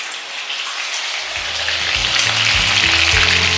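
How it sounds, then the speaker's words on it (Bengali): Shrimp fry in oil in a kadai, a loud, dense, close sizzle that holds steady and swells slightly, with low clattering knocks of the pan or utensil joining after the first second. "চিংড়ি মাছটা ফ্রাই করার পরে দেখো খুব সুন্দর কিন্তু কড়ার মধ্যে তেলটা লেগে আছে চিংড়ি মাছে"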